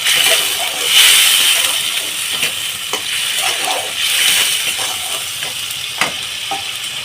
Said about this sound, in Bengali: এখানে আমি হালকা সামান্য জল দেব যাতে মশলাটা গায়ে না লেগে যায়